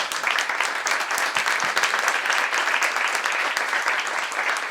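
A crowd applauds steadily, a dense wash of many hands clapping that holds at an even loudness throughout.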